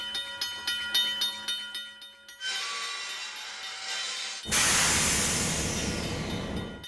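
A train clatters along in a rhythmic series of chuffs, then settles into a steady rumble before a louder, harsher roar surges in close by, no voices.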